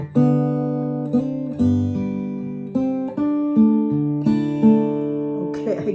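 A Gibson L1 acoustic guitar is played fingerstyle on a melody, with plucked notes and chords ringing out one after another at a relaxed pace, close and clear, with no talking.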